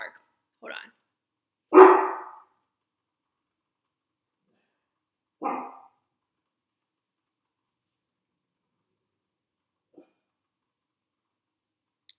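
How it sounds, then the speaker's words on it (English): A single dog barks indoors, giving a few separate, fairly loud barks spread over the first several seconds, followed by long silence with only a faint tiny sound near the end. "The dog has to bark."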